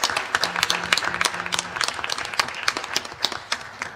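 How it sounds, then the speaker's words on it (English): An audience at a Highland Park, New Jersey board of education meeting bursts into close, lively hand clapping that fades into scattered claps over a few seconds. "please give him a round of applause for all he does behind the scenes making this all work."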